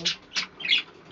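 A pet bird close by gives three harsh, raspy squawks in quick succession, each one short and loud, with the last drawn out slightly longer, against a quiet indoor background.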